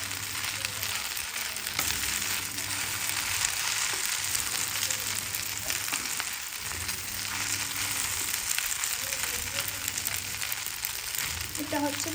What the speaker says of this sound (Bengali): ভালো করে আমি নাড়াচাড়া করে দিব।